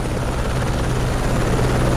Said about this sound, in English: Someone called the helicopter.